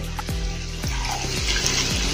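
Water pours into a cooking pan of bharwa baingan (stuffed eggplant) in a steady trickling stream with a few soft glugs and splashes, close and clear, no voices.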